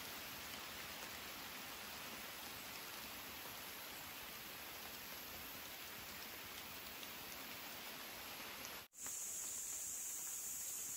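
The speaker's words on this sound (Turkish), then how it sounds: "Yağmur çok az yağdı." Light rain falls steadily in a forest at a solo bushcraft camp, an even, close hiss of drops on surfaces that carries on for several seconds and cuts out for an instant near the end.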